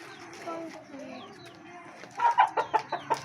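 Backyard chickens and a rooster kept alongside rabbits and pigeons: faint clucks under talk, then a run of six sharp, louder clucks near the end.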